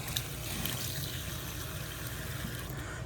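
Water runs steadily from the kitchen sink faucet in a new 2025 Coachmen Catalina RV, a faint, even splashing hiss with no talk over it.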